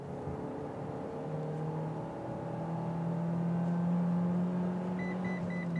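Mitsubishi Eclipse Cross HPE-S SUV accelerating toward a truck ahead, a steady interior engine hum rising in pitch under road noise, ending with a series of short electronic warning beeps.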